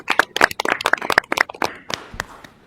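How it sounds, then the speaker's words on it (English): A small group at a school board of education meeting gives a short burst of close, sharp hand claps. The clapping thins out and fades to a few scattered claps near the end. "So round of applause one more time."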